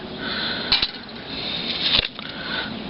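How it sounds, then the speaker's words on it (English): A metal lid goes onto a pot of boiling couscous, giving two sharp clinks against a steady hiss from the stove. "Put the lid on it."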